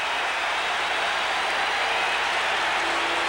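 Red Sox fans on their feet cheering at Fenway Park during the 1978 Yankees–Red Sox AL East tie-break game, a loud, steady crowd roar with no breaks across the whole stretch.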